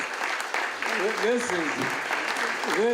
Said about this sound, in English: Give yourselves a round of applause out there.